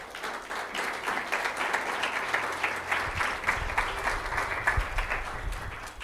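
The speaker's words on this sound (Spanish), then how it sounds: "Yo le daría un aplauso al Señor." A congregation at a Spanish-language church gathering gives sustained applause, dense and even hand clapping that holds steady for several seconds at moderate distance.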